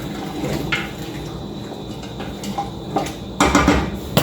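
A metal lid clanks onto a cooking pot of stewing lamb with carrots and dried lemon, several close clattering knocks of pot and lid, the loudest near the end, in a quiet kitchen.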